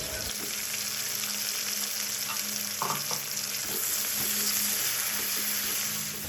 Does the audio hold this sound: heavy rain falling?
no